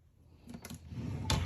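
A kitchen drawer used for dish towels and oven mitts slides and knocks shut, a few quiet close clicks and a soft thud near the end, with no talking.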